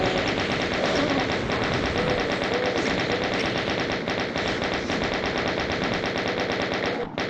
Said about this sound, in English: a few more bullets should finish them off